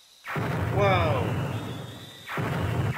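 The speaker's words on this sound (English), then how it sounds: "Explosions." Explosions in the video game Mother 3 come as two loud, broad booming bursts, the first swelling and rumbling on for about two seconds before a second blast hits near the end, with game tones and whistling sounds over the top.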